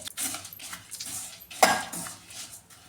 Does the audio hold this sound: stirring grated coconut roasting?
yes